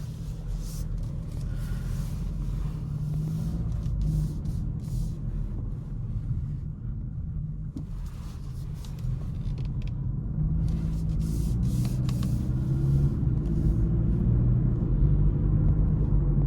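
A Kia Stinger 2.5T with an 8-speed automatic pulls away and drives, its low engine drone and road rumble heard from inside the cabin, swelling louder toward the end, with faint creaks and wind noise.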